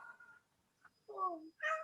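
A pet cat named Howler meows twice during an online meeting, a short call followed by a longer, louder yowl, with other faint sounds in the gaps.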